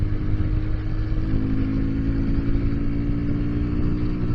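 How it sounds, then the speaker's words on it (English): A Sinnis Terrain 125 Euro 5 four-stroke motorcycle engine runs with a steady, buzzy drone, loud and close, holding an even pitch throughout with no voices. "It's funny because it revs like a 2-stroke, even though it's a 4"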